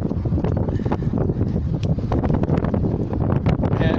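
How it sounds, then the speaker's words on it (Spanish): Strong wind buffeting around hills at an ancient U-shaped temple site in the lower Chillón River valley, a steady roaring rush with gusty microphone rumble, loud and constant, no talking. "hay mucho viento alrededor"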